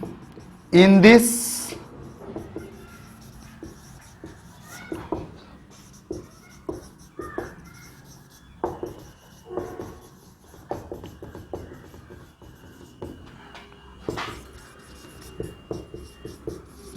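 Pen or chalk writing by hand during a Class 12 chemistry lesson on solid state and unit cells, heard as scattered short scratchy strokes close by, with a voice speaking over and between the strokes.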